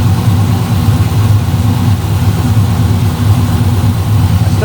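A car engine idles steadily on a hot day, a loud, close, continuous low rumble with a faint rhythmic pulse and no change in pace throughout.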